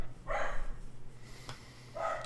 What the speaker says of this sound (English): Dog will never stop barking.